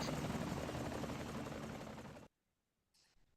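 A helicopter in an Indiana Jones video game roars with a loud, steady rotor and engine drone that cuts off abruptly, followed by near silence and a faint brief sound.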